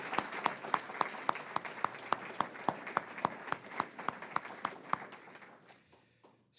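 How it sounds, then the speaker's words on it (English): Audience applauding Ohio Governor Mike DeWine at a grant funding announcement, heard as evenly spaced, crisp claps at a moderate distance that thin out and fade toward the end. "how about another round of applause for Governor DeWine?"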